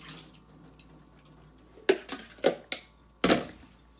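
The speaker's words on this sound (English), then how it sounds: "now that the rice has soaked, we're going to pour that water." Soaking water is poured off washed sushi rice in a microwave rice cooker, with several sharp splashes and gurgles in quick succession after a quiet stretch.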